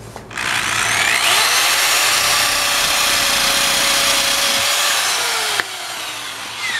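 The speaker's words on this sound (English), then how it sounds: "So after we use the eraser wheel" An eraser wheel on a power tool grinds decal residue off the side of a skoolie school bus, a loud steady whir with a scraping hiss that holds for several seconds, then drops off sharply near the end.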